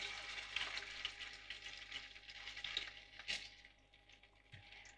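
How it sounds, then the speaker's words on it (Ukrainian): Steady sizzling and crackling of potato pancake batter with chicken and cheese frying in hot oil, close by, with occasional soft clinks and no talking. "масло наше розігрілось, починаємо викладати дируни"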